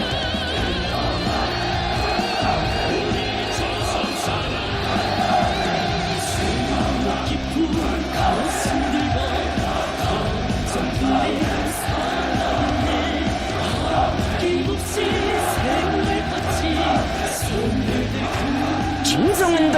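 A large crowd at the construction site of the Sinuiju greenhouse farm in North Korea cheers and shouts in a dense, continuous roar of many voices that holds steady from start to finish.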